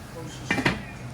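Okro stew of Ghanaian seafood being stirred in a pot, then the lid set on, heard as two quick metallic clinks close by.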